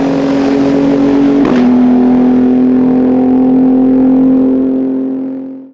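Race car fitted with the Nissan GT-R 3.8-litre V6 biturbo engine, a loud steady engine tone held close by, dipping slightly in pitch after a sharp transient, then sustained before fading out at the end.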